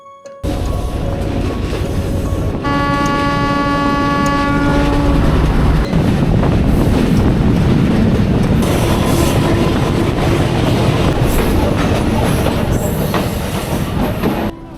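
A Rajbari–Kushtia shuttle train sounds a long, loud horn blast early on, then rolls past with heavy clattering wheels and squealing rail noise continuing at full volume.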